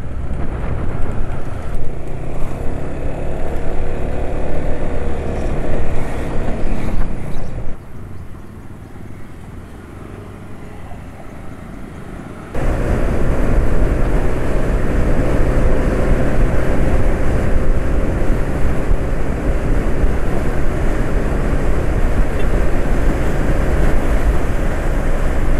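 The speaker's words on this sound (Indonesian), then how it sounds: "Suara mesin udah mulai kasar agak merendahnya, tapi masih kelindungi aditif" A rough-running motorcycle engine, its oil treated with additive and topped up with cooking oil, idles steadily with a low, uneven drone that drops quieter for a few seconds mid-way before returning at full level.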